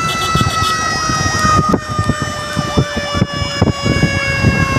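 A loud ambulance escort siren wails in rapid repeating sweeps, close by, over road and engine noise.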